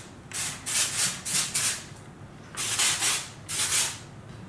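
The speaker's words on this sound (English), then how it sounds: "I'm going to grab some Oribe dry texturizing spray" Oribe dry texturizing spray hisses from an aerosol can onto hair in short, close, repeated bursts, about six sprays in quick succession with brief pauses between them.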